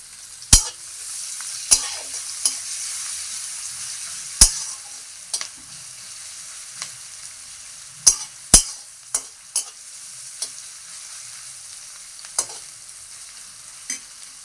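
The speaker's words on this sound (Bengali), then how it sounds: "তেলটা গরম করে পেঁয়াজ কাটা কুচি করা আছে, পেঁয়াজগুলো দিয়ে দেবো।" Chopped onions fry in hot oil, a soft steady sizzle broken by sharp clacks of a spatula stirring against the pan, close up with no talking.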